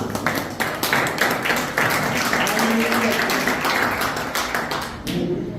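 A church congregation at a sisters' congress in Terenos, Mato Grosso do Sul, claps steadily in praise, a dense, loud, rhythmic wash of many hands that continues throughout with voices mixed in.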